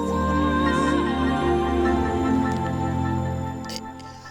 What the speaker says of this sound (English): So this funny little jingle played